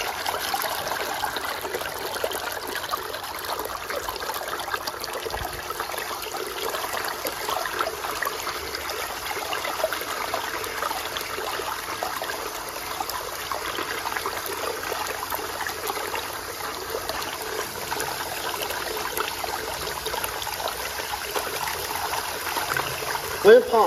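SHYSKY DC60G-24120S DC water pump running submerged in water, giving a steady, even trickling and churning wash throughout with a faint constant hum underneath, no talk.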